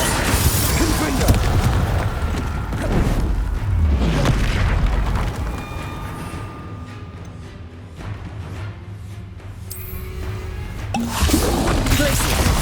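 Spell blasts and explosions in the Hogwarts Legacy video game, repeated booming crashes and impacts layered over dense battle noise and game music throughout, loud and close with no pauses.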